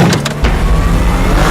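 Nissan GT-R Nismo supercar passing close by, a loud rushing engine roar that stays strong for its brief length, with a few quick bursts at the start.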